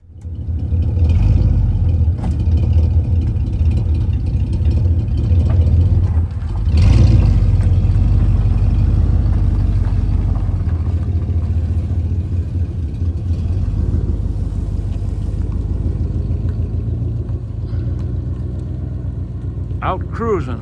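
A 1957 Pontiac Star Chief cruises along with a steady low engine rumble and road noise throughout, close and loud inside the car, with a brief thump midway and occasional speech underneath.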